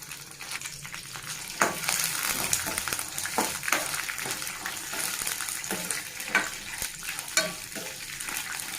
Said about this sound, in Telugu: పల్లీలు అయితే కొంచెం ఫ్రై అయిపోయినాయి కదండి